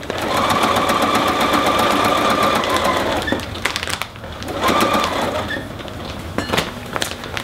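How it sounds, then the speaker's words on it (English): A sewing machine stitches a custom dog coat, running in a steady, close, loud burst for about three seconds, pausing briefly, then running again in shorter stretches with light clicks between. "I'm just going to sew this on"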